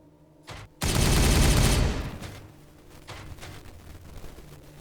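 Ork gunfire in the Warhammer 40K Regicide video game: a sudden loud sustained burst of rapid shots lasting about a second, then a rumbling tail and scattered fainter shots.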